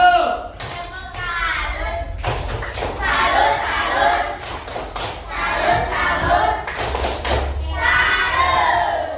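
A school class applauds and cheers for a student group, loud bursts of clapping, thumps and children's shouts coming in waves close by, with talking between them.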